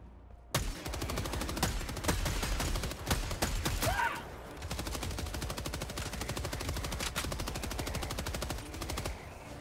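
Sustained rapid machine-gun fire from the video game Helldivers 2 rattles on loudly and continuously for several seconds, with a brief dip and a faint voice before the barrage resumes.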